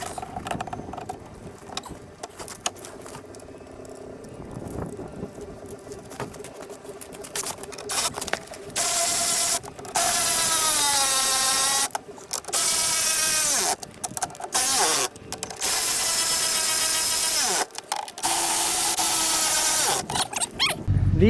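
Nuts on the carbide runners of a 2015 Arctic Cat snowmobile's skis being tightened down: close mechanical whirring and ratcheting in repeated bursts, with whining tool runs and short pauses between them, with no talk.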